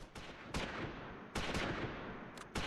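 A rocket launcher or Panzerschreck fires in the WWII strategy game Close Combat IV: several sharp, noisy blasts at uneven intervals, each trailing into a rumbling decay, moderately distant and fairly quiet, with no talk.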